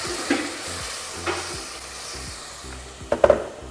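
Boiled water poured into hot oil to make a chicken gravy gives a loud, close sizzle and bubbling hiss with stirring, ending in a few sharp crackles, and there is no talk.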